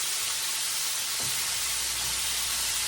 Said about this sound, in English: they're still frying loud